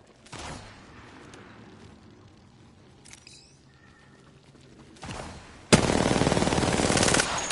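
Gunfire in Apex Legends: a short burst early on, scattered shots and game effects, then a sustained loud automatic volley firing rapidly for the last couple of seconds, no talk.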